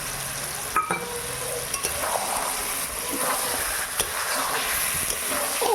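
Mutton frying in a pan with ground melon seed and poppy paste, a steady bright sizzle with occasional stirring scrapes and clinks, close and continuous.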